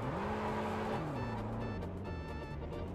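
A rear-wheel-drive car drifting in Car Parking Multiplayer, its engine holding a loud, steady whine that drops in pitch as the tires squeal through the slide.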